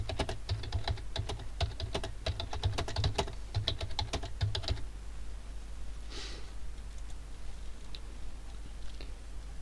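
Computer keyboard clatters with rapid, close keystrokes for about five seconds while a description is entered into an Excel macro, then falls quiet apart from a couple of faint taps and room hiss.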